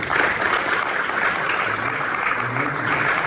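An audience at a corporate talk breaks into steady applause, a dense crowd of hands clapping continuously and fairly loud, with a faint voice or murmur briefly surfacing underneath partway through.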